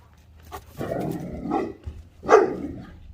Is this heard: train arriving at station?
no